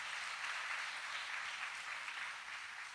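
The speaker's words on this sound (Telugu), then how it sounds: "చప్పట్లు కొట్టండి గట్టిగా." A church congregation claps loudly together, a dense sustained wash of applause that holds steady throughout with no talk over it.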